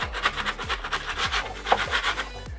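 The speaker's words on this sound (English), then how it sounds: "I'm actually gonna scrape up and get some of this off the wall" A hand scraper rasps repeatedly against a wall, removing old bonding material in rhythmic strokes, about seven close, gritty pulls in quick succession with no talk.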